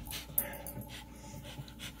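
A dog pants in quick, close breaths, short bursts of rhythmic huffing over a low steady background hum.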